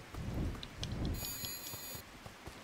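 Rain falls in the raining area of a video game, a steady broadband hiss with low rumbling swells, while a high electronic tone chimes briefly partway through.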